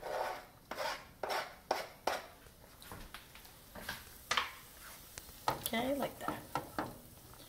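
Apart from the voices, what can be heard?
shallots and garlic added to melted butter in a pan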